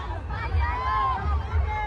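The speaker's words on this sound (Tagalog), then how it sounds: "Hindi mo kakayanin yung sigawan nila." A dense crowd roars and shouts continuously at the Sinulog street parade in Cebu, a loud, steady wall of cheering voices with low rumbling underneath.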